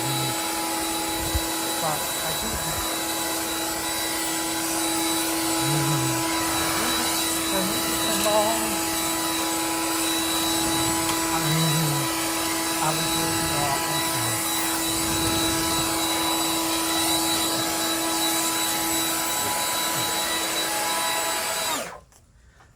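A STIHL BGA60 battery leaf blower runs with a loud, steady, high whine for about twenty seconds, then cuts off abruptly at the end.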